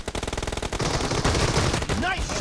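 Rapid M1014 shotgun fire in a video game sounds as a fast string of loud punchy blasts, then a dense burst of overlapping gunfire and a brief ringing chirp.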